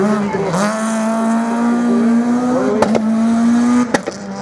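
A heavily modified Renault Mégane race car at the Lessay slalom, its engine holding a steady loud harmonic drone with brief dips as it shifts, two sharp clicks or bangs near the end, close and continuous.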